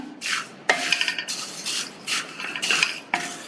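Puffed rice is stirred in coconut oil in a pan over a low flame, giving repeated scraping, rustling strokes in uneven bursts, close and moderately loud, with no talk.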